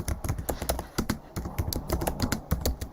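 Rapid typing on a computer keyboard during a Docker command-line demo, a steady close stream of clicky keystrokes with no talking.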